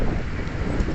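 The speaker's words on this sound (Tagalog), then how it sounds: "grabe yung hangin, ang lakas talaga" Strong gusty wind buffets a microphone outdoors during a bicycle ride, a loud, dense roar filling the whole brief moment with no voices.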